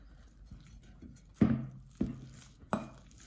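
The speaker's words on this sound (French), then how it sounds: "vous les écrasez bien, donc avec une fourchette ou avec un presse-purée comme je vais faire" Ripe bananas being mashed with a potato masher in a bowl, a few soft, separate thuds and squishy knocks, quiet and close with pauses between them.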